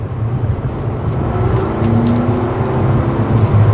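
A Mercedes C63S AMG engine runs on a test drive as a loud, steady low rumble from inside the car, swelling slightly toward the end as the throttle is worked, with no voices.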